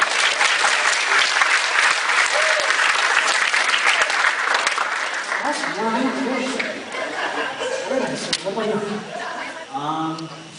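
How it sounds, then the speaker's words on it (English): A fundraiser show audience bursts into loud, dense applause that gradually thins, with laughter and a few voices rising through the tail end. "What a round of applause."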